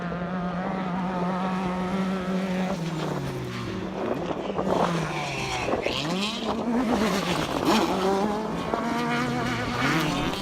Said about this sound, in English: The annual New Zealand Off-Road Racing Championships Southern Dirt Fest saw 42 cars competing in a short course event on Saturday